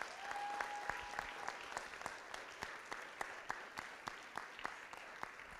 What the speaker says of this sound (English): A round of applause for these kids right here.